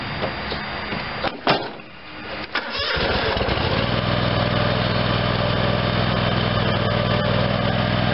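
A Dixon ZTR 5022 zero-turn mower cranks with a few clattering attempts, then its engine catches and settles into a loud, steady running drone close by.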